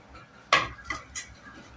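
Chopped banana stem tipped into a metal cooking pot for a lentil kootu, giving one brief clattering scrape against the pot followed by two softer knocks, close and fairly quiet.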